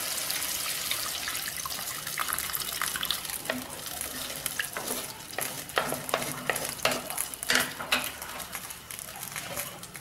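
Tamarind water is poured into a pot of mashed tomato for Chettinad country chicken rasam, giving soft splashing and a quiet sizzle with occasional sharp clinks of utensils on the pot.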